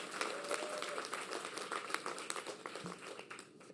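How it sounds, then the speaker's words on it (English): Applause from an audience at an outdoor groundbreaking for an affordable housing project in New York City, a steady wash of many hands clapping at moderate distance with no voice on top. "Let's give them a round of applause."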